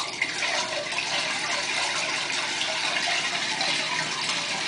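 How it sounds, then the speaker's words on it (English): Water drains back into a hole outdoors with a soft, continuous rushing and gurgling, a steady, fairly quiet flow with no talk. "the water is draining back into the hole"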